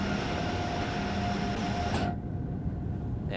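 Acela Express high-speed train running in Train Sim World 4 on the Northeast Corridor near Boston, a steady loud rolling rumble with a constant tonal hum that cuts off sharply near the end.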